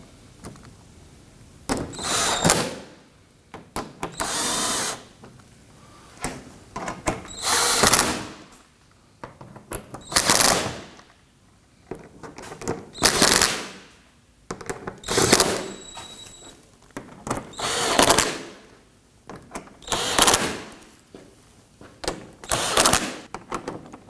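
A power tool snugs down screws on the cooling fan assembly of a 2018-2024 Toyota Camry 2.5L four-cylinder, firing in roughly ten short whirring bursts separated by brief pauses, close and loud.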